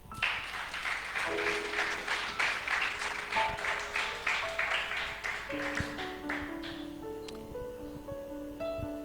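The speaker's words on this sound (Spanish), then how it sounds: "Dale ese aplauso al Señor." A church congregation applauds in a moderate burst that gradually fades as sustained keyboard notes enter and carry on alone.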